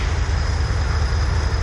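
A train rolls across a railway bridge, a loud, steady rumbling roar with heavy low-end drone and a faint high whine, continuous and close throughout.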